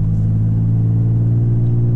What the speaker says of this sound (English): I'm accelerating now, so obviously you can hear the exhaust